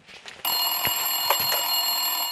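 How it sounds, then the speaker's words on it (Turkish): An electronic telephone ringing in the Big Brother Türkiye house, a steady bright tone that starts abruptly and rings on continuously and fairly loud, with no one speaking over it. "Derken telefon çaldı ve Onur için yeni bir umut ışığı yandı."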